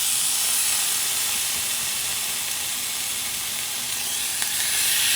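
Pork chop searing in a preheated cast iron pan with no oil, a loud, steady, close hiss of sizzling and steam throughout.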